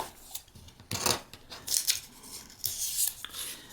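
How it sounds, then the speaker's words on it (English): Scissors trim the fabric and paper of a paper-pieced quilt block, making several crisp, close snipping and crunching cuts in an irregular rhythm, with quiet handling noise between cuts and no talking. "and trim this piece."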